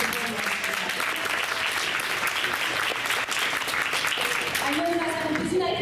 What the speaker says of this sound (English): we really need to give them a big round of applause and thank them for supporting us